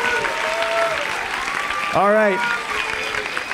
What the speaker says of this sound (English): A round of applause for Dan QZ.